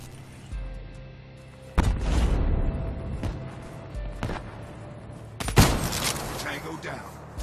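Video game gunfire fills a military firefight: a sudden heavy burst of shots, several sharp cracks in between, then another loud volley toward the end, all over a low background rumble.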